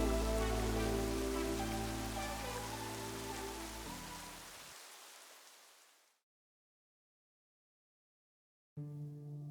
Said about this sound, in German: und nach der Tour natürlich Regen